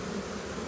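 Honeybees buzzing from a pile of bees dumped out during a removal from a tree, a brief steady hum close to the microphone with no other sounds.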